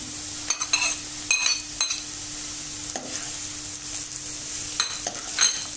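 Mushrooms tossed into a pan with cooked capsicum and onion, frying with a steady sizzle broken by several sharp scraping stirs of a spoon against the pan.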